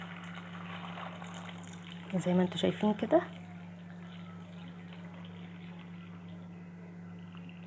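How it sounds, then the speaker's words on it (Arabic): Boiling hot water poured over cleaned local fava beans, a steady rushing pour over a constant low hum, with a short stretch of speech partway through. "هنحط عليه مية سخنة بتغلي"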